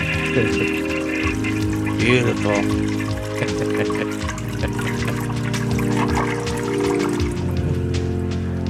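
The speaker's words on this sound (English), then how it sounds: "Let's flush the toilet there." A toilet flushing nearby, with a steady run of rushing, trickling water that carries on under a brief spoken remark.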